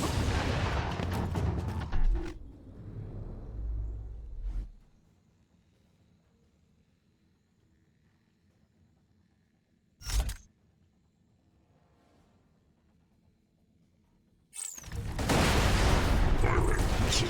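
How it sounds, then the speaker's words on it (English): Missile barrage in the video game Borderlands 2: dense, roaring blasts at the start, then a quiet low rumble, a single sharp boom in the middle, and a loud sustained barrage of explosions at the end. "Preparing missile barrage."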